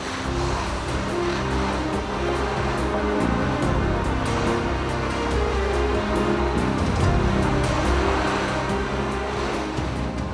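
Rough sea waves churn and surge beside a ship during a rainy pilot boarding, a loud, dense roar with low rumbling, steady throughout and without talk.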